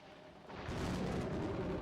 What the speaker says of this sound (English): I love that fucking thunder noise.